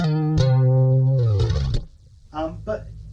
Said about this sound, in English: if you have the chorus right up